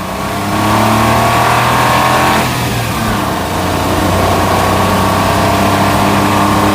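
A Smart ForTwo car engine pulls hard under acceleration on a test drive, a loud steady drone with rising tones, a brief shift-like dip partway through, then continuing to build, with no talking.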